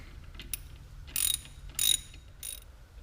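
A ratchet tightens the brake hardware on a Dodge Hellcat during a brake pad install, giving three short bursts of close, crisp clicking over a low background hum.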